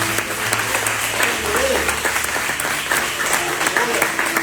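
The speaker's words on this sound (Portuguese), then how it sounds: "Celebre com palmas ao Senhor." A church congregation at a Wednesday service claps in praise, steady dense applause filling the room, with a voice speaking underneath.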